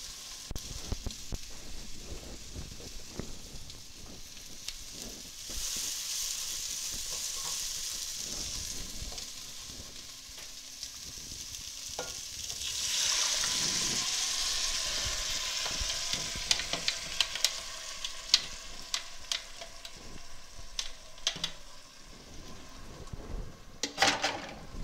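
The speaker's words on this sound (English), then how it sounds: "And we are going to add the sauce." Chicken tinga sauce sizzles and fries in a hot pan, a soft crackling hiss that swells sharply midway as it is stirred, then settles into scattered pops and spatters, fairly quiet throughout.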